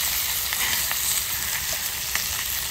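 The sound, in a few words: eggs and bacon frying in a pan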